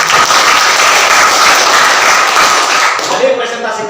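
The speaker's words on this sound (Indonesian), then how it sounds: "Mari sekali lagi kita berikan aplaus." A classroom audience applauding after group presentations, loud sustained clapping from many hands up close that tapers off near the end as a voice begins.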